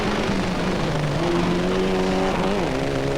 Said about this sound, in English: 15 is the Mitsubishi Lancia of Pascal Smets